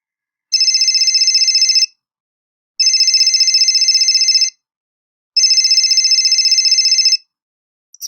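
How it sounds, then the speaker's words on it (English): A telephone rings three times in long, evenly spaced bursts, each a steady electronic warble lasting over a second with silent gaps between, loud and close, with no voices. "Your phone is ringing."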